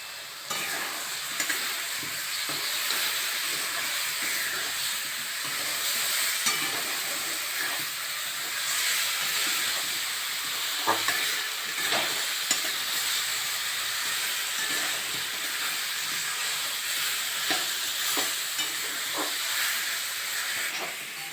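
Meat being stir-fried in a pan with red chili powder, a continuous close hiss and sizzle punctuated by scraping stirring strokes, steady and moderately loud with no talking.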